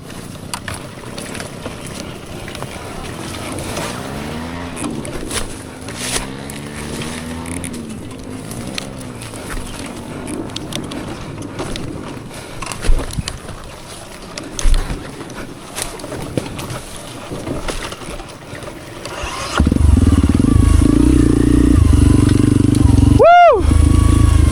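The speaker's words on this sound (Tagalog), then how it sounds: "Ito na yung motor ni Master Taga-Hubog, nandito." A motorcycle engine at a mountain moto trail challenge in Paracelis, Mountain Province, revs with rising and falling pitch, then settles into a louder, steady roar near the end.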